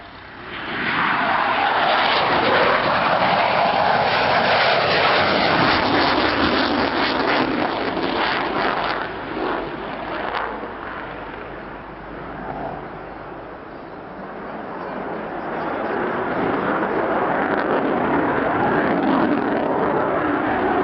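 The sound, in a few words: Panavia Tornado F2 jet doing a simulated roller landing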